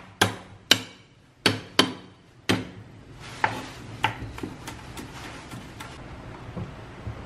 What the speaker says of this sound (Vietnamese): Mình sẽ đập dẹp ra và bầm nó.